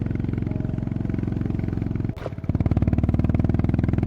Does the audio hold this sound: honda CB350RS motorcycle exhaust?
yes